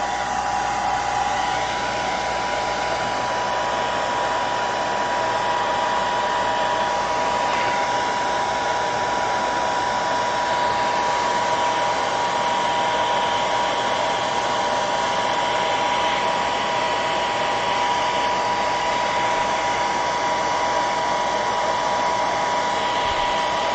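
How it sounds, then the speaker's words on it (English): Hair dryer running steadily on full heat to warm the adhesive behind a car's rear inner trim panel, a loud continuous whirring drone close by for the whole stretch with no talking. "I got my dryer on full heat"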